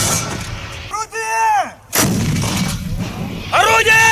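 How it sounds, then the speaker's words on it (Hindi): A Russian Msta artillery regiment fires in Bakhmut: several heavy booms at close range, each followed by rolling echo, with high whistling tones between the blasts. "बखमूत में रूस की MSTAB तोपखाना रेजिमेंट ने यूक्रेनी सेना पर बेहद तीखे और प्रचंड हमले किए हैं"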